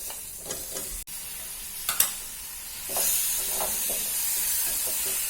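Chicken liver added to roasted masala in a pan, a few scraping and clattering touches at first, then a steady hissing sizzle that swells and keeps going to the end.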